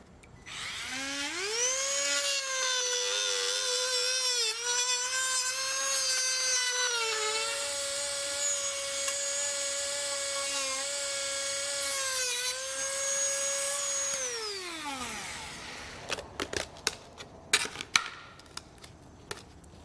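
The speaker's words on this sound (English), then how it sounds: "So I'm gonna use a Dremel tool to cut it out." A Dremel rotary tool cuts through a plastic bumper fascia on a 2020 BMW X5, giving a loud sustained high whine with slight pitch wavers that winds down, followed by scattered clicks and knocks.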